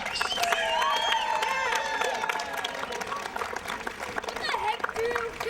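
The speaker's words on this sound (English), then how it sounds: "let's have a big round of applause for our 2011 Single A World Series Phillies and Red Sox" Parents at a Little League baseball World Series game for Single A Phillies and Red Sox teams clap and cheer in a sustained burst of applause, with voices and children's chatter mixed in.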